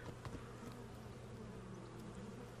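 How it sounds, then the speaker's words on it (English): Bees buzz in a steady, close drone in the video game Kingdom Come, a low continuous hum heard alone without talk. "Is that bees?"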